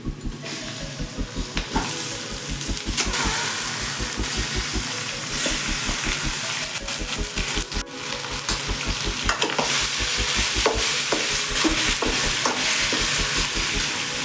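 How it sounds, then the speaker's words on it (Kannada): Chicken pieces frying in hot oil with turmeric powder for a chicken gravy, a continuous loud sizzle with a rhythmic scraping of a spoon stirring the pan throughout. "ಇವಾಗ ಚಿಕನ್ ಹಾಕೋತಾ ಇದ್ದೀನಿ."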